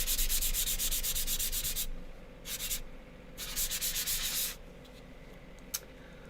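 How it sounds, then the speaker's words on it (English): Sandpaper rubs across a wood panel for a woodburning piece in several close, raspy bursts of back-and-forth strokes, separated by short pauses and ending in one brief scrape. "Just work on sanding down the rest of these guidelines here"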